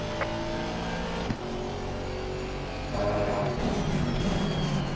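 An Aston Martin GT race car in Assetto Corsa Competizione drones at high revs with a steady engine and exhaust note, a sharp pop and brief dip near the start, then the pitch climbs again as it accelerates.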